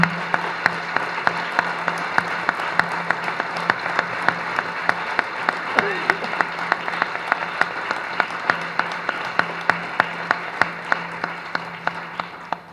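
Applause fills a hall at an honorary doctorate ceremony, loud and sustained, many hands clapping with a few sharp individual claps standing out over the steady wash.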